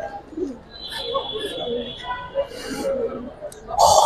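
Giribaz pigeons, a silver khaki pair, flutter and coo faintly while being held in hand, soft scattered wing and body noises under nearby talk, with a brief louder burst near the end.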